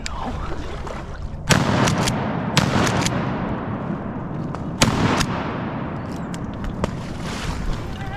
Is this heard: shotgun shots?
yes